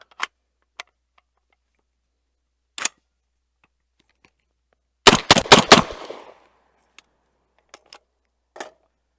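A Black Aces Tactical Core 12 magazine-fed shotgun fires outdoors. A rapid string of about five loud, sharp blasts comes in quick succession, surrounded by scattered single clicks and bangs in near silence.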